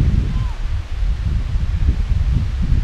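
Steady wind roars and buffets against the microphone on the cloudy summit of Dog Mountain, a constant low rushing noise with no other sounds.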